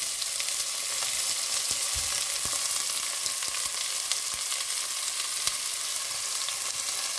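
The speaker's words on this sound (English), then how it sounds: "we will now put in the onions. It will sizzle" Onions dropped into warm oil in a pan for a chicken mince lasagna set up a steady, broadband frying sizzle that holds loud and even throughout, with a few faint clinks of utensils and no talking.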